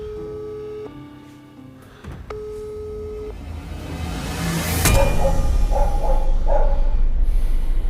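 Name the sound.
telephone busy signal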